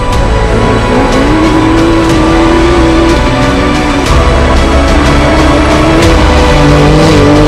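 Rally car at Dakar 2021 accelerating away from the start, a loud sustained engine roar with rising revs and gear changes, close and continuous with no talk.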